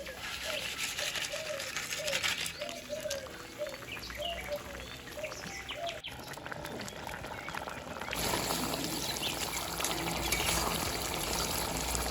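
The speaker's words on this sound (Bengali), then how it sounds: "মাছের ঝোলটা খুব ভালো করে ফুটিয়ে গেছে" Fish curry broth at a steady boil in a pot, a continuous close bubbling hiss with faint gurgles, growing brighter and louder near the end, with no talk.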